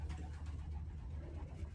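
Young racing pigeons coo softly and steadily in a loft, a low continuous murmur with no voices over it.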